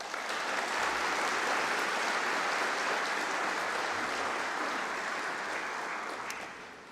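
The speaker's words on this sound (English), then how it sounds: "Another big round of applause, please, for Thomas." A graduation night audience applauds a speaker with a dense, continuous hall-filling roar of many hands. It holds steady, then tapers off in the final second.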